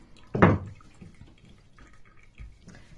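Water splashes briefly into a brass sink in one short burst, followed by a quiet room with faint drips.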